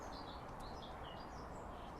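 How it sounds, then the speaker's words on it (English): Faint birds chirp and twitter in short high calls over a steady outdoor background rush, a few scattered tweets. "you can hear the birds"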